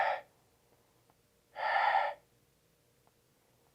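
Two heavy, breathy gasps, as if a voice imitating breathing, separated by about a second of near silence in a quiet room.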